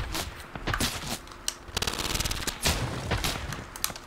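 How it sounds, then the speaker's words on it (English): Rapid automatic sniper rifle fire in the video game Fortnite, a dense run of sharp cracks with a few louder reports standing out, loud and close. "Automatic sniper, boys. The new automatic sniper."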